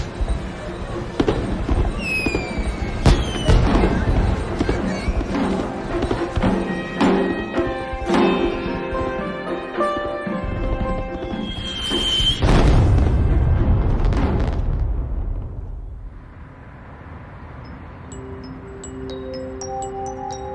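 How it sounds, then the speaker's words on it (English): Diwali fireworks over New Delhi crackle and boom repeatedly, with whistling rockets and popping bursts, loud and dense, thinning toward the end. "watch the skies of New Delhi light up in a dazzling display of fireworks."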